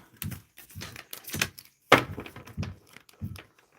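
Tarot cards shuffled by hand in a run of separate riffles and bridges, each a brief papery crackle and flutter, with one sharper snap near the middle and soft pauses between.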